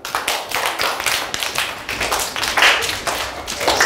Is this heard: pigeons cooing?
no